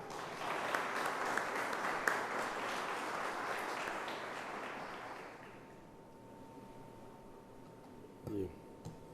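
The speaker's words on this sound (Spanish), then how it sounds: "Le brindamos un fuerte aplauso" Audience applause at the Cátedra Electoral event of Peru's Jurado Nacional de Elecciones fills the room for about five seconds, then fades into quiet room tone with a brief bump of noise near the end.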